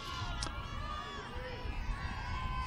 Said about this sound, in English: our fans now are making noise